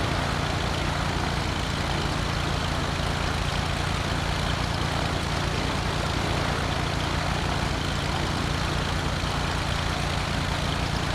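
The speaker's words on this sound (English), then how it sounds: "You're now in a Piper Cub." A Piper Cub propeller plane's engine in Flight Simulator X drones steadily and loudly throughout, a constant even hum with no breaks or voices.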